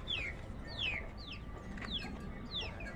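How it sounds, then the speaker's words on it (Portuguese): Young chicks on a farm give high, thin peeps in quick downward-sliding calls, about five or six in three seconds, close and clear over a low rumble of background noise. "Tem um monte de pintinho aqui, ó."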